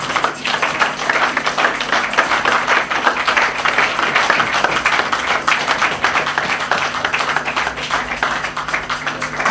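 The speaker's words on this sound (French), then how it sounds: "Sous vos acclamations" Sustained applause from a church congregation welcoming a pastor, dense and steady clapping filling the room throughout without a break.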